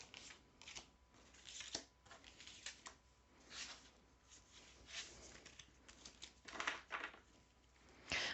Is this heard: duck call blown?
no